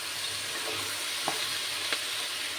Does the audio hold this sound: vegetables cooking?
yes